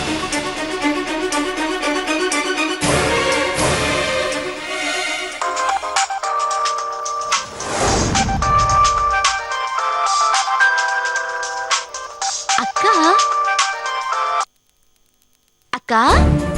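A telephone ringtone plays loudly as a call is placed, a repeating electronic melody of bright tones with brief pauses, ending in near silence before a short final burst.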